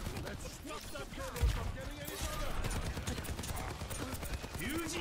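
Overwatch 2 gameplay with rapid gunfire and impacts running steadily under near, continuous speech from players, plus a few sharper bursts.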